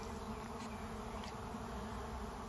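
A honeybee swarm moving into a deadout nuc fills the air with dense, continuous buzzing, a thick steady drone of many bees close by with no break.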